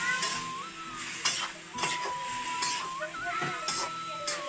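Oil stirred into food in a cooking pan over a steady sizzle, with a spoon scraping and clinking against the metal several times, close and fairly loud, alongside a thin whining tone.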